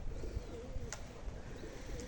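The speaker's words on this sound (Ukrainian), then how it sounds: "Ой, яка гарна птаха, яка краса." Soft, low cooing calls from a nearby bird in a park in Myrhorod, Ukraine, repeated a few times over faint outdoor background noise.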